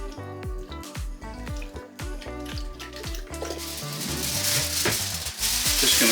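A dash of water hits a hot pan holding pork loin with dried thyme and spray oil, and a rising hiss of sizzling swells over the last couple of seconds beneath background music.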